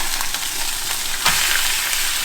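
Tilapia fillets fry in a hot pan with a loud, steady sizzle and crackle close up, with a brief scraping stir midway and no speech.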